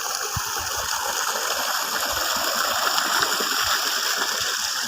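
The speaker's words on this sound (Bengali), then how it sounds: "জলের আওয়াজ পাচ্ছ তোমরা হয়তো" Water flowing steadily through a paddy field on a farm beside a hatchery, a continuous broadband rush with faint splashing, heard close and fairly loud throughout with no talk.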